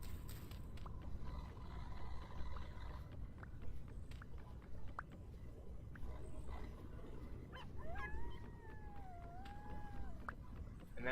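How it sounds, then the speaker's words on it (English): A wolf howls from a forest in the Vintage Story survival game, two rising and falling wavering tones late in the stretch over a dense rumbling game background with faint scattered clicks. "that's a wolf howl from the forest, I think"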